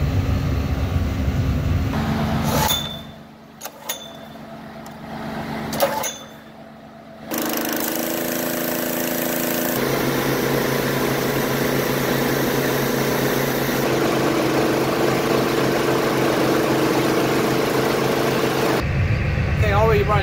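A John Deere 8320 tractor engine running in a hay field while smoothing ruts, a loud steady drone that drops away briefly early on, then returns and holds strong.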